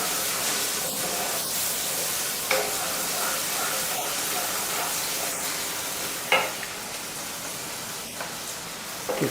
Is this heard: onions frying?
yes